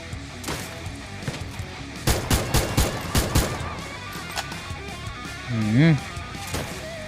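Gunfire in the mobile battle-royale game Free Fire: a rapid cluster of loud shots bursting mid-clip over scattered game effects, with a rising tonal effect near the end.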